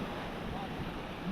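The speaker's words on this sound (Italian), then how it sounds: "Ovviamente questa parte qui di spiagge ha queste onde un attimino più" Strong ocean waves roll onto Baía dos Porcos beach on Fernando de Noronha, Brazil, a dense, steady wash of surf mixed with wind noise, without a clear break in the roar.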